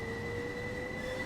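A train at a station in a train video game gives off a steady, fairly quiet rumble with sustained whining tones.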